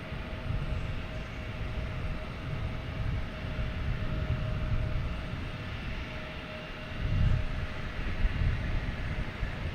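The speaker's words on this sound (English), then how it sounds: "We got a United here heading to the runway." Jet airliner engines hum steadily as a United plane taxis toward the runway at Boston Logan Airport, heard from a distance as a continuous low rumble with a faint tonal whine throughout and a slight swell near the end.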